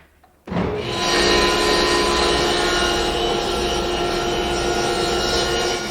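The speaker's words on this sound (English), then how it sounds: "what I'm going to do is first rip a piece that's 4 inches wide" A table saw rips a 3/4 inch red oak board, starting abruptly after a quiet moment and holding a loud, sustained whining cut for several seconds.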